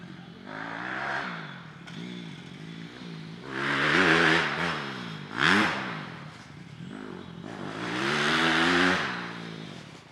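A motocross bike on a training track with banked and flat turns and jumps revs hard in repeated surges, the engine note climbing and falling as it accelerates through the corners, loud and fairly close with no talking.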